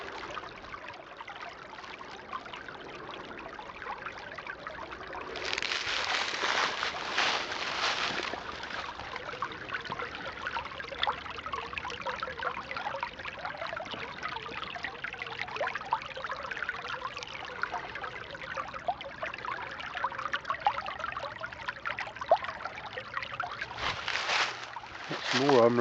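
Creek water runs steadily over rocks beside a sandbar, a constant close rushing and trickling wash that swells slightly partway through, with no speech.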